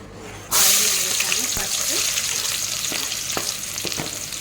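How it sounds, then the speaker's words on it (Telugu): Dried prawns hit hot oil and fry with a loud, steady sizzle that starts abruptly after a short quiet moment, with a few sharp utensil knocks and scrapes scattered through the crackling. "వీటిని బాగా ఫ్రై చేసుకోవాలి గోల్డెన్ బ్రౌన్ వచ్చే వరకు"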